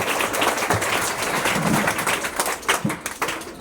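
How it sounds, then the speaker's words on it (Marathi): Audience applause for a PhD award at a felicitation gathering, a dense, sustained wash of many hands clapping, steady and fairly loud throughout, with no speech over it. "जोरदार टाळ्या वाजवू आपण."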